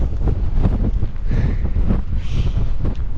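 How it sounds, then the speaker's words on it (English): Strong wind buffets the microphone on the exposed CMD Arete of Ben Nevis in winter, a steady loud roar with gusty surges throughout and no voices. "it's nice standing behind it because it just gives me a bit of a shelter from this wind"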